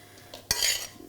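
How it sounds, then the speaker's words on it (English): Chopped vegetables tip into a mixing bowl of cooked couscous with a sharp clack of the bowl or utensil, then a brief scraping clatter, close and fairly loud. "I'm now going to add in"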